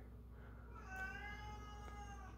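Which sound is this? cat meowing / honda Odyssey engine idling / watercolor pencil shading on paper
cat meowing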